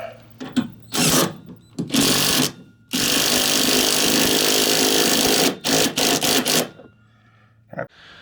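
A power tool runs in repeated bursts, then one long sustained whir, as a new nut is driven down onto a rear shock absorber of a 2007 Mercury Mariner, Mazda Tribute or Ford Escape, loud and close.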